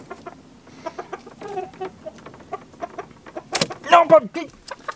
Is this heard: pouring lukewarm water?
no